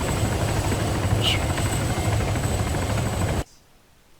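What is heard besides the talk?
helicopter engine in the video game ArmA 3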